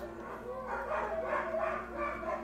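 Neighbor's dogs howl and yip together from nearby yards, a cluster of overlapping whining barks and rising howls swelling and fading over a low steady hum.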